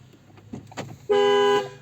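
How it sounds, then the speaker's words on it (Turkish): A single loud, sustained Ford Focus car alarm horn blast of about half a second, preceded by faint clicks and rustling. "hem hırsızlık alarmımız korna geri bildirimle bize veriyor"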